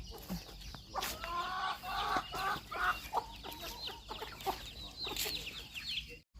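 Laying hens cluck and squawk close by in a backyard garden, a busy overlapping series of calls and bursts of clucking running throughout with no talk.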